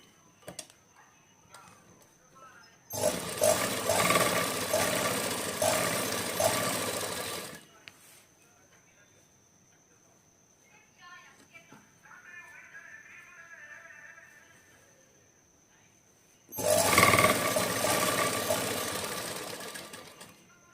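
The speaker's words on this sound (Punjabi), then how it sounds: "ਇਹਨਾਂ ਨੂੰ ਇਸ ਤਰੀਕੇ ਨਾਲ ਰੱਖ ਕੇ ਆਪਾਂ ਸਲਾਈ ਲਗਾਵਾਂਗੇ" A sewing machine stitches suit lining fabric in two loud, rapid bursts of several seconds each, with quieter handling and softer stitching between runs, close by.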